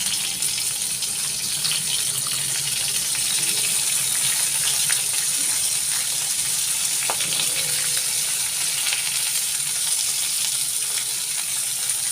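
Palak spinach leaves and some stems fry in a pan, giving off a loud, steady sizzle and crackle that continues unbroken with no speech.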